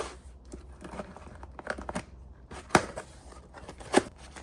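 Package of red wiggler worms sliced open with a light cut: soft crinkling and tearing of plastic packaging, with two sharp close rips standing out amid quieter rustling.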